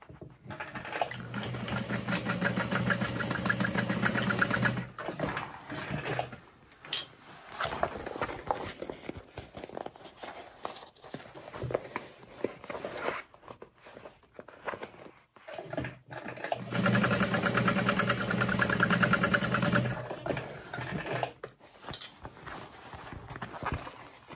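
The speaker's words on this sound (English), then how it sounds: "Just be really careful again when you're back stitching with vinyl." A sewing machine back stitching through vinyl runs in two long bursts of rapid rhythmic needle clatter, separated by pauses, close and fairly loud.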